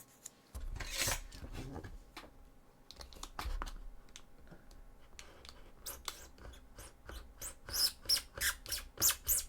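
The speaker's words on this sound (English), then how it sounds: "Might need a little bit of a sand" Sanding of a Sisters of Battle cosplay prop handle from Warhammer 40k, short close rasping strokes in irregular bursts that grow into a quicker rhythmic scrubbing toward the end.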